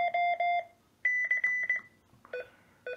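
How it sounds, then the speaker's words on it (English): A code practice oscillator beeps out Morse code call signs, short clusters of dits and dahs in quick bursts with the pitch shifting between groups, clean and fairly quiet with no voices. "Now in call sign mode, the pitch of each call sign will change slightly, as you can hear"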